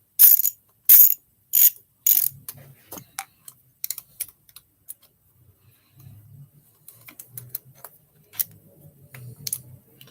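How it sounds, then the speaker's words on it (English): Ratchet wrench clicking on timing chain cover bolts of a Yamaha TTR125 engine, with several loud bursts of rapid ratcheting up close, then sparser, softer clicks and low handling noises. "That was a lot easier with a ratchet than trying to do it with the hand thing."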